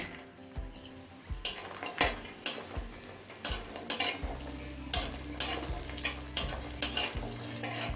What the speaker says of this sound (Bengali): তেলটা হাই ফ্লেমে একটু গরম করে নিলাম এবার কয়েকটা বড়ি ভেজে নেব